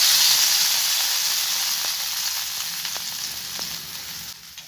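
Spices for a methi kadhi tadka sizzle loudly in hot oil, a steady close frying hiss that slowly fades, with faint clinks of a spoon stirring.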